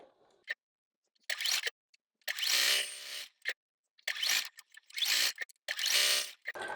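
A sewing machine stitches quilt block pieces in short bursts of fast, buzzing motor whir, each lasting about a second, with brief silent pauses between runs and no talking.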